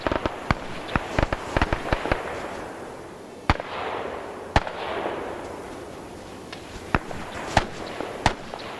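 Sharp gunshots crack in irregular bursts in a World War II Pacific video game battle against Japanese gun emplacements, some rapid, with a couple of heavier booms between them and a faint rumble filling the gaps.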